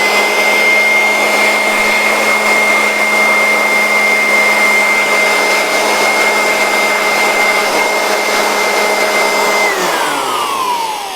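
Electric air blower dust cleaner running at a higher setting gives a loud, steady whining roar for about ten seconds, then its pitch slides downward near the end as it eases off.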